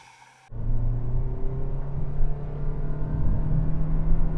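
Toyota Prius hybrid launching hard from a standstill, a sudden rise into a steady low rumbling drone and whir that keeps building, heard from inside with no talk.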